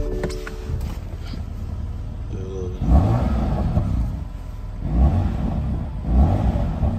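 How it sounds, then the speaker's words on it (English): A 2020 BMW F83 M4 engine idles then revs up sharply three times, each rise roaring loudly before settling back to a low rumble. "That's just like your standard rev."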